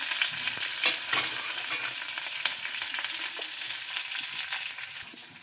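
Coriander stems and curry leaves frying in oil in a pan for a chickpea kuzhambu, a steady close sizzle broken by scraping stirs, with no voices.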